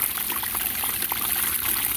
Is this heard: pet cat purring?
no